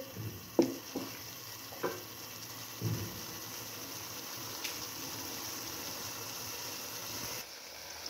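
Carrots and other vegetables frying with vinegar in a pan for egg fried rice, a soft steady sizzle with a few stirring knocks near the start, no talking.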